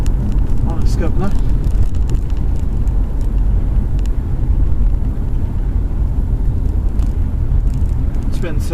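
A 2015 Mazda CX-5 2.2 diesel with twin turbochargers and all-wheel drive is driven briskly on roads in North Wales, giving a steady, loud engine and road drone with wind noise and no one speaking.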